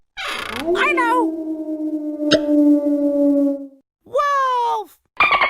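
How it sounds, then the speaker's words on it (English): A wolf howls in a baby sensory setting: one long, steady, wavering howl, close and loud, followed after a short gap by rising and falling yelps and a final brief cry. "Wolf!"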